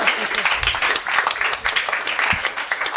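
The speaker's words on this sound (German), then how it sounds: "also Applaus für Maschinenbau" A stand-up comedy audience claps and cheers throughout, a loud continuous burst of live applause with a few voices mixed in.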